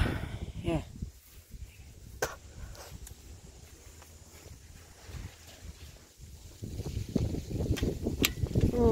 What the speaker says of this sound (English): Ooh, it's windy out here.